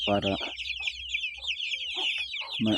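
Broiler chickens about 45 days old cluck in a pen, a steady scatter of short nearby calls with a few louder bursts at the start and end, over constant high-pitched chirping in the background.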